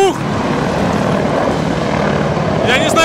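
Russian attack helicopters pass overhead near the Kakhovka Hydroelectric Power Plant, their rotor drone loud and steady throughout, with a brief voice or whistle near the end.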